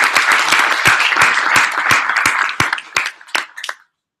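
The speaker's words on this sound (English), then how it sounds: "Can we give Marcel a round of applause for that?" A round of applause from an audience at a gathering, with dense, loud clapping that thins into a few scattered claps before stopping.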